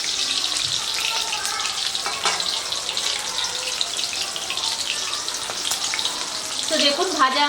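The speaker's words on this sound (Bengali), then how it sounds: "এগুলোকে উল্টে পাল্টে ভেজে নিচ্ছি।" Chicken lollipops frying in hot oil, four at a time, being turned over as they cook; a close, steady bubbling sizzle with faint stirring noises throughout.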